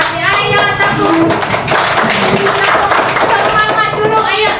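Children clap together in a classroom, a dense, steady patter of many small hands filling the room, with young voices mixed in underneath.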